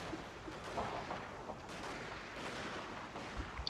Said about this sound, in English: kind of scary, the amount of fire going back and forth.